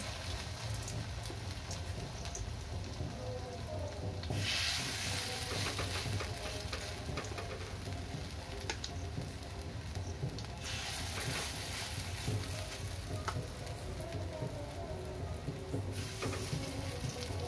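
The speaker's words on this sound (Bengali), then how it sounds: "তেলটা গরম হয়ে গেলেই এই কুমড়ো আর ডালের যে মিশ্রণটা ছিল সেটা বড়ার আকারে করে নেব" Pumpkin and red lentil fritters frying in hot oil in a pan, a steady crackling sizzle that swells louder at times, with no talk.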